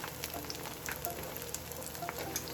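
Vegan calamari pan-frying in a shallow layer of oil gives a soft, continuous crackling sizzle with scattered tiny pops, fairly faint and even throughout.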